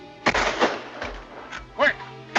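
Gunfire in a 1933 film soundtrack, a few sharp, loud reports with quick decay amid speech and dialogue.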